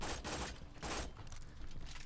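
Rapid bursts of Sandhawk gunfire from the video game Borderlands 2 come in quick repeated volleys over about two seconds, fairly faint in level.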